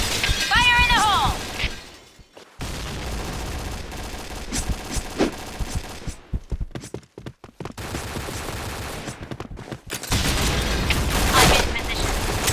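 Video game combat with a thrown grenade exploding amid gunfire: loud, dense bursts of shots, crashes and booms with brief gaps, and a short rising electronic tone near the start.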